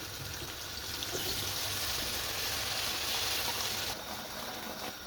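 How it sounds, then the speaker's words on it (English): Water is poured into qorma sauce simmering in a pan, a steady rushing pour over a low sizzle for about four seconds before it cuts off, leaving a quieter bubbling hiss. "We can add some water."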